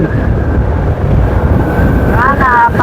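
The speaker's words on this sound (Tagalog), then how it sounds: "medyo malakas yung hangin natin" Strong wind roars across the microphone in a constant, heavy rumble, with a faint engine-like whine rising near the end.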